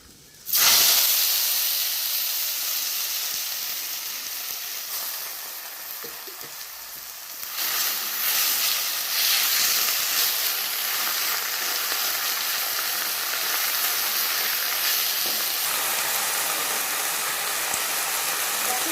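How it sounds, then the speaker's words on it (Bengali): Wet jute leaves drop into hot mustard oil with a sudden loud burst of sizzling, settling into a continuous, intense hiss and crackle that swells again partway through. "শাকগুলো কিন্তু আমি এখন উপর থেকে ছেড়ে দেবো কেননা জল আছে তো সরষের তেল হয়তো ছিটতে পারে"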